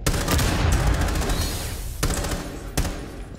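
Rapid bursts of AK rifle fire in the video game Rainbow Six Siege, loud and close, with dense automatic volleys that pause briefly and resume in sharp clusters.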